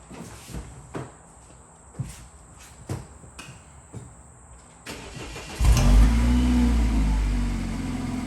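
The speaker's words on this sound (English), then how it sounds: "now I'm gonna start the car up" A BMW F30 saloon starts up after several soft clicks and thumps, the engine catching with a loud burst near the end and settling into a steady close rumble.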